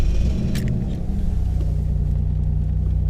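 A KITT replica car from Knight Rider idles with a steady low engine rumble after a key start, close and continuous with a brief higher rattle near the beginning.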